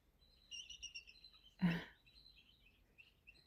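High, thin eagle calls outdoors, several short faint chirping notes in a loose series, with one brief louder noise midway.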